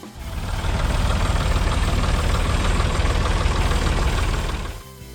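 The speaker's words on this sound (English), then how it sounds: "The sound of its 3-cylinder engine was crisp, like a steady heartbeat across the farm." A Ford 2000 tractor's three-cylinder engine runs close and loud, a steady low knocking chug that fades in, holds evenly for several seconds, then drops away abruptly.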